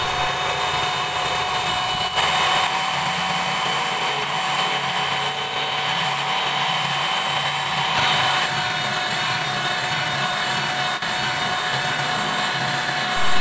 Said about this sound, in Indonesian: Kemudian di mixer ya teman-teman, berawal dengan kecepatan rendah dulu, kemudian bisa langsung dengan kecepatan tinggi.